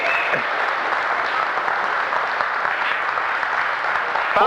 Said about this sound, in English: Y'all better clap for that now.